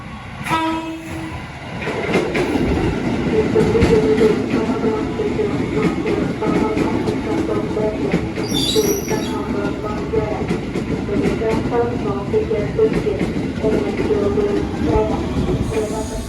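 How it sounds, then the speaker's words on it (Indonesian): The KA Airlangga passenger train pulls into Pasar Senen station with a loud, close, continuous rumble of rolling wheels and rail clatter, a horn sounding briefly near the start and a high squeal midway. "ini kereta aku datang teman-teman, yang ke arah Kampung Bandan dia lewat Pasar Senen"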